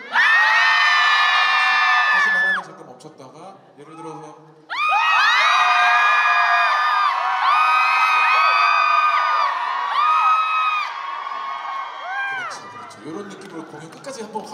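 Year-end 2023 countdown festival concert audience screaming and cheering in loud sustained bursts, broken by a short lull where a voice speaks before the roar surges back, then easing near the end.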